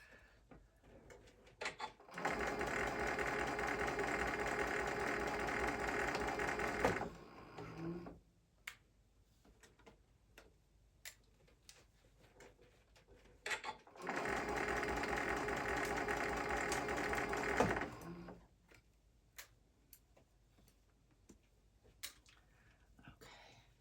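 A sewing machine stitches through pinned fabric in two sustained loud runs of steady whirring, each lasting several seconds, separated by a quiet pause with small handling clicks.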